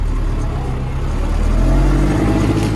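An MTZ 82.1 tractor pulling a plough through a field, its engine a steady loud droning rumble with constant mechanical whir and no pauses, heard close without talk.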